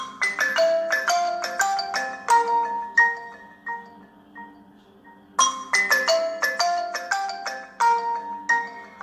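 A melodic ringtone plays through the small speaker of a JioPhone 2, a bright tinkling tune that pauses briefly then repeats, clear and fairly loud.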